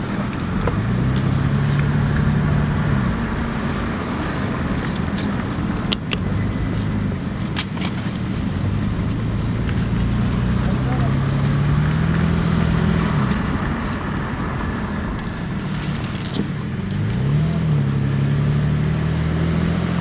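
A 1999-2001 Lexus ES300 with a newly installed U140 automatic transmission drives along steadily, with a continuous engine and road drone and low rising tones as it shifts through the gears, and no talk.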